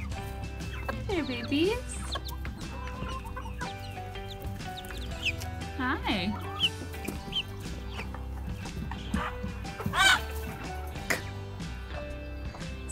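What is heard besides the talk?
chicks clucking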